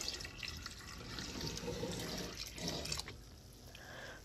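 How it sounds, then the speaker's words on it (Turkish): Milk poured into softened rice in a pot for Turkish rice pudding: a faint, steady stream of liquid splashing and trickling, close and alone. "Şimdi sütünü ilave ediyorum arkadaşlar."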